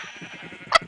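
A single short sheep bleat from Minecraft sounds once near the end, brief and fairly loud over a low hum of game background noise.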